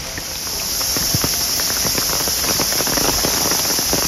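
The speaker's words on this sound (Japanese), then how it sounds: "かなり降ってきております。" Heavy rain falls outdoors, a dense hiss swelling in over the first second and then holding steady, with scattered drops and patters up close and no voices.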